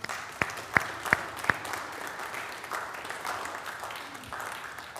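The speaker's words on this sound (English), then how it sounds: "a happy round of applause?" A church congregation breaks into a round of applause, a few sharp claps at first then a steady, moderately quiet patter of many hands in a reverberant room.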